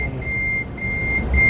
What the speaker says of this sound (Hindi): ओके, बजर बज रहा है, राइट?